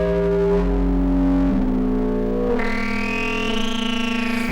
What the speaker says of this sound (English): So let's use that to just subtly and slowly change the cutoff frequency as well.